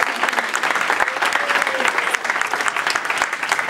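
Thick, continuous applause from a Las Vegas show audience, a loud crowd of clapping hands with some voices mixed in underneath, holding steady throughout.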